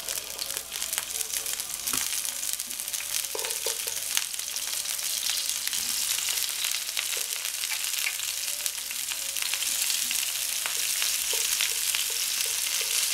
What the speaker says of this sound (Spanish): Después de haberla cocinado, entonces la vamos a saltear un poco acá.